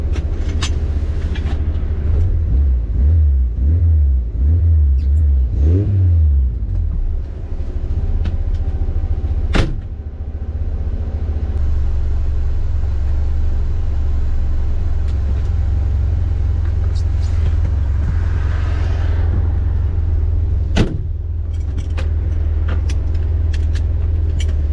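A Renault R8 Proto engine runs steadily at a loud, close idle, with a deep continuous rumble, a brief rev swell early on and a couple of sharp clicks.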